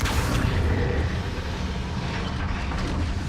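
A Confringo blasting spell goes off in Hogwarts Legacy with a heavy, rumbling explosion. Low booming energy fills the whole stretch and fades slightly toward the end.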